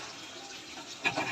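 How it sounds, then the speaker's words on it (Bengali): Hot water splashes into a pot of mutton curry over a soft background hiss, a short liquid pour that swells near the end of the second-long moment. "গরম জল।"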